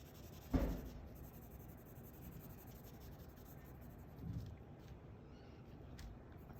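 A pencil quietly scratches and rubs across paper while shading a croissant drawing, soft close strokes with a brief louder tap near the start and no speech.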